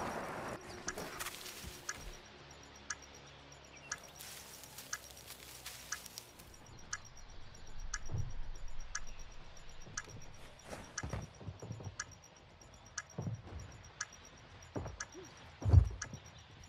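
A planted bomb's timer in a Call of Duty Search and Destroy match, a regular electronic tick-beep repeating steadily at roughly one per second, with scattered footsteps and game noises around it.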